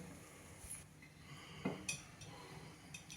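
A spoon scoops coriander rice from a cooking pan into a serving bowl, giving faint, sparse metallic clinks and scrapes spread out irregularly at low volume, close by with no talk.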